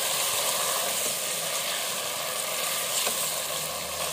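Brinjal (eggplant) pieces fry in hot oil for a curry, giving a steady, dense sizzle that fills the whole short stretch with no break and no voices.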